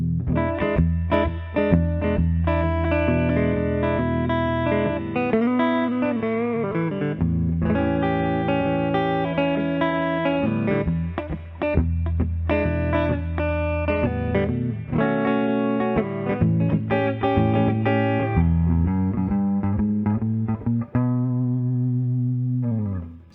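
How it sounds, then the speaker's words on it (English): Distorted electric guitar played through the front Seymour Duncan P-rail humbucker, sustained chords and single notes ringing loud and full with effects, playing continuously without talk. "let me just show you what these humbucking, the front Seymour Duncan P-rail humbucking sounds like"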